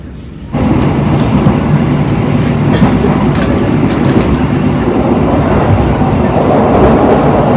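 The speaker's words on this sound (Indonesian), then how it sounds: "rangkaian kereta api Kertanegara telah tiba di stasiun Kertosono" The Kertanegara passenger train arriving at Kertosono station rumbles loudly nearby, with steady rolling wheel noise and faint clatter, beginning abruptly after a brief quieter moment.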